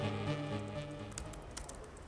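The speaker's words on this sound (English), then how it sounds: "What are you typing?" A computer keyboard clicks with light, quick typing taps, faint against a steady tonal hum that lingers underneath.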